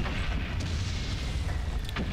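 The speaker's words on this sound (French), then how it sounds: "Donc là, on doit encore utiliser le canon." A deep cannon boom rumbles in the World War I video game Soldats Inconnus, near the Vimy Ridge area, as a dense low roar that fills the whole short stretch.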